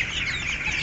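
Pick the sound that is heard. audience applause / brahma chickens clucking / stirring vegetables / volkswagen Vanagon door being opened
brahma chickens clucking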